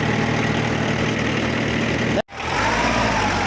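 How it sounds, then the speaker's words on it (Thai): A used Yanmar tractor engine runs smoothly and steadily at idle, with an even low rumble throughout. A brief dropout occurs midway, then the same steady running resumes. "ดูคันนี้เครื่องนิ่มเลย"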